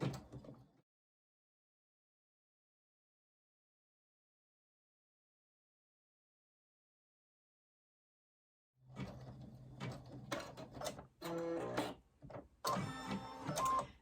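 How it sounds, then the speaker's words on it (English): Computerised embroidery sewing machine stitching a placement stitch for a vinyl hand sanitizer holder, a close mechanical whirring and clattering that starts after a long silence and runs in uneven bursts to the end. "I just hit the green button and it starts sewing"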